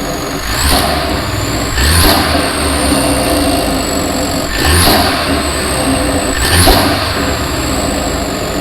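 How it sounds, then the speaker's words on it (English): A 2023 Mercedes-Benz C300 4Matic with a turbocharged four-cylinder engine drones steadily, and four sharp whooshing chirps of wastegate noise break through under load at roughly regular intervals. "it has a very nice and beautiful wastegate noise"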